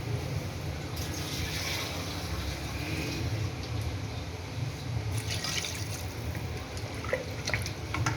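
Two glasses of water are poured into a cooking pot for siri paye, a goat head and trotters dish, giving a steady trickling, gurgling fill at moderate volume with no talk.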